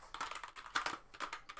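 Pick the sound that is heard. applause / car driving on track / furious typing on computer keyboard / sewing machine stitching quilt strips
furious typing on computer keyboard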